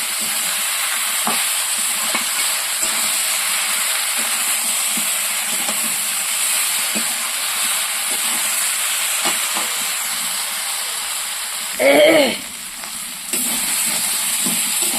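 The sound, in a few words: jackfruit frying and stirred with spice masala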